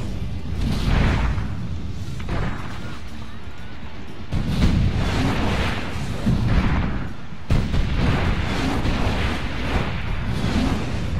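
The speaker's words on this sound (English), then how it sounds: "I now have a Greek fire cannon?" Heavy Greek fire cannon blasts boom in a rough, continuous barrage in the video game Assassin's Creed Revelations, with sharp bursts at intervals and a dense rumbling roar throughout.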